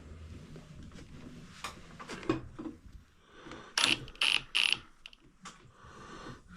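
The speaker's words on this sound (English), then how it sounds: "You gotta be careful with this impact. It's got a lot of torque." An impact wrench loosens the rotor bolt on a Yamaha XS650 motorcycle engine in a few short, loud, rattling bursts. Quieter workshop clatter comes before them.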